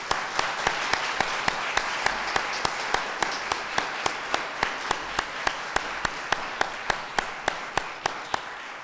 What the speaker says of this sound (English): Let's give our poets another round of applause.